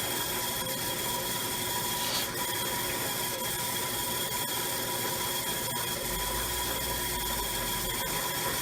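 A black leather edge being buffed on a powered buffing machine, giving a loud, continuous whirring and rubbing drone that stays steady throughout, with no pauses.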